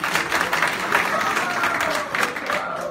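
An audience at an event applauds, a crowd's clapping swelling and ebbing in waves with speech partly mixed in.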